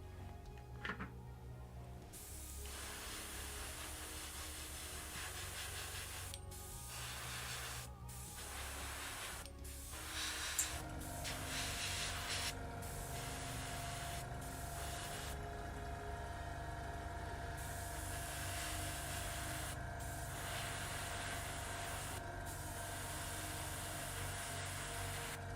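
Airbrush spraying paint onto Khorne Daemons miniature models, a close, steady airy hiss with a humming compressor underneath. It stops briefly several times, then runs on continuously.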